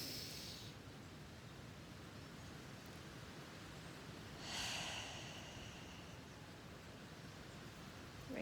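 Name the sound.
deep breath in during mindfulness exercise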